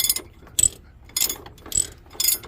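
A ratchet loosens bolts on the fuel filter housing of a Cascadia truck with a DD15 engine, sounding as four short, close clicking bursts at a steady pace with quiet gaps between them.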